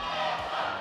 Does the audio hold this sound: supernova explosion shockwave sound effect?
no